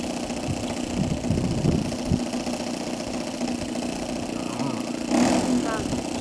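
A small model airplane engine runs steadily in a buzzing, mid-pitched drone, with voices talking over it. The engine sounds fairly close and keeps a constant hum, with a brief louder swell near the end.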